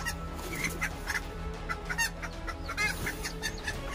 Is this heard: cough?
no